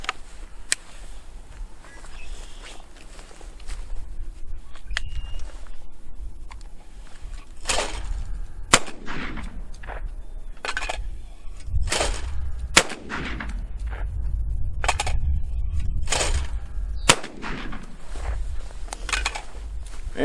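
Retay Masai Mara inertia-action shotgun firing F2 Legend shells outdoors, about eight sharp, loud shots spaced a second or more apart, each with a short echoing tail.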